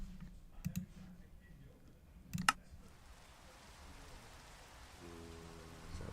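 Rain falling in a Minecraft All the Mods 10 modpack world: a soft, steady hiss settles in after a few brief clicks, continuing evenly to the end with a low hum beneath.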